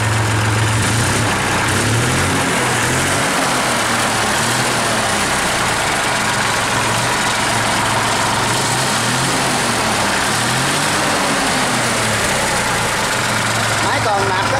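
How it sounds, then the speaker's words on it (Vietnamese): An engine on a machine for sale runs steadily at idle, a low continuous rumble close by with a rhythmic throb, while a person talks over it. "Máy còn nạp rất là lực nha bạn."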